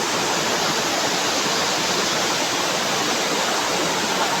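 The Ratna Chirekhan waterfall in Natal village sends out a steady, loud rushing roar of falling water, even and unbroken throughout, with no voices.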